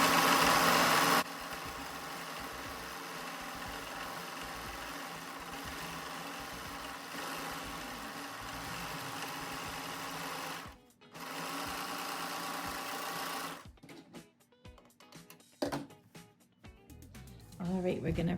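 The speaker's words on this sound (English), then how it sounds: "And now I'm just serging around the edges of the pocket." A serger overlocks the edges of fabric pocket pieces for a corset dress with a fast, steady, close mechanical whirr that runs for long stretches, stops briefly, then ends in scattered handling clatter.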